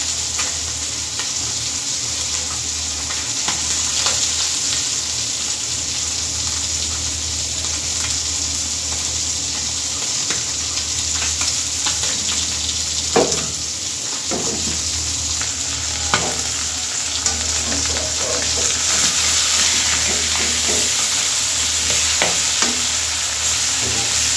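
Fish, a catfish-type shing, frying in oil in a kadai, a continuous loud close sizzle with occasional stirring scrapes and spatters throughout, no one speaking.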